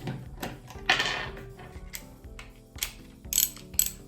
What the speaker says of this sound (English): I'll use a 5 millimeter on a ratchet here. So I can just go ahead and loosen this off here.